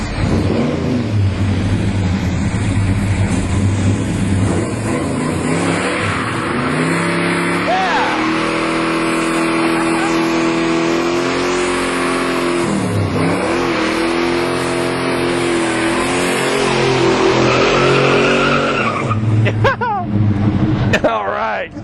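A 1965 SS 396 four-speed convertible does a burnout at a restoration shop, its V8 roaring and revving hard for about twenty seconds with tire screech, loud and close, with voices shouting over it.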